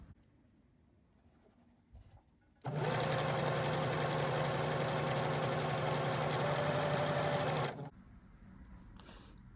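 A Singer Stylist 2 Model 5625 sewing machine runs in one steady, loud burst of about five seconds, a fast mechanical whir with even stitching rhythm, preceded and followed by quiet handling noise.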